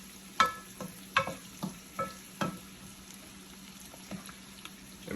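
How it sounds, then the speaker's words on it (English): Shallots sautéing in melting butter in a pan, stirred with a few scraping strokes. There is a soft, steady sizzle with intermittent spoon clinks and scrapes near the start, fading to a quieter sizzle. "I don't want to burn the shallots, I just want to saute them"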